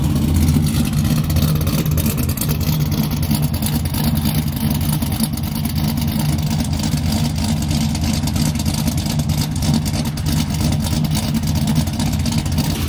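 Chevrolet Trailblazer SS V8 fitted with a BTR Stage 4 camshaft idling steadily, a loud, continuous low rumble with constant engine drone and no voices.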